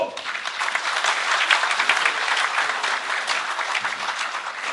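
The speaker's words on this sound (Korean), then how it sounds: "힘찬 박수로 단상 위로 모시겠습니다" Vigorous applause from delegates at a labour federation's convention as the chairman is welcomed to the stage, a thick, steady wash of many hands clapping from start to finish.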